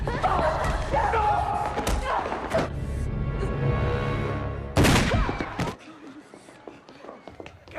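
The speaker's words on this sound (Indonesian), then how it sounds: "Sontak Lois pun menembaki Walter." Several sharp, loud gunshot bangs burst out at intervals over a rumbling, busy background, followed by a quieter stretch.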